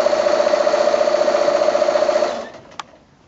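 A sewing machine stitches a quilt border seam, giving a fast, even mechanical whir with rapid needle ticks up close. It runs steadily, then stops, and a brief click follows.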